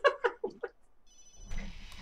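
In the survival horror game ObsCure, a telephone rings with a thin electronic tone and then a broader ringing burst, right after a few short spoken syllables.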